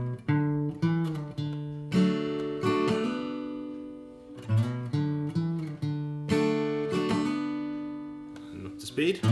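Acoustic guitar part of a song, a strummed open-chord pattern with an up strum and a quick hammer-on, played close and clear in repeated rhythmic phrases with no talking.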